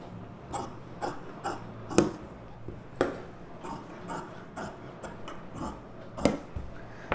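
Scissors snip through lining fabric while a U-neck blouse is being cut, giving a series of crisp, irregularly spaced clicks close up, with faint speech in the background.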